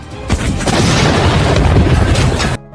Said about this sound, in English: There was even one racer who was shot using a cannon at close range until the car exploded.